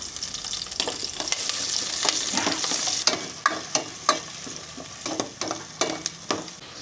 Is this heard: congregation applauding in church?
no